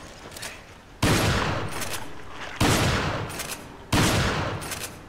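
Three heavy gunshots from Resident Evil 5 boom out roughly a second and a half apart, each a sharp loud blast trailing into a long decaying rumble, with quieter noise between.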